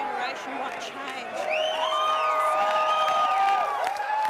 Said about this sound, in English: the reason that cheer might be going up